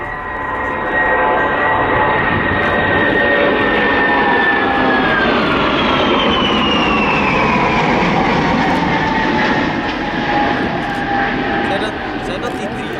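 Airbus Beluga XL with two Rolls-Royce Trent 700 turbofans flying past at an air display, a loud, steady jet roar with a slowly falling whine that fills the whole stretch, with talk over it.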